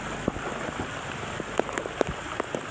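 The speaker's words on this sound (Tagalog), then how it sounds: "Ulan ngayon dito." Rain falls outdoors during a fishing trip, a steady soft patter on surfaces with occasional sharper drops close by.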